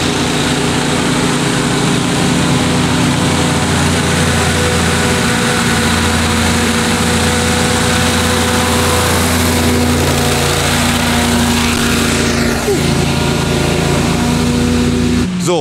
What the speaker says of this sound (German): Hovercraft bedeutet, wir sind in der Lage, über Wasser und Land zu fahren.